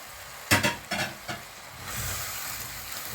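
Minced beef, about a pound, is added to a pan with onions, garlic and carrots for bolognese: a few sharp clattering scrapes and stirs come first, then a steady, moderately loud sizzle takes over.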